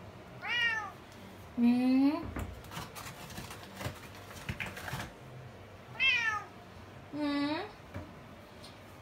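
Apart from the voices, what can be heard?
hungry angry cat meowing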